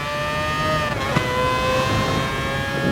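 A race car engine in GT Sport howls at full throttle, a loud sustained high-pitched wail with a brief dip and shift like a gear change before climbing again, with no talk over it.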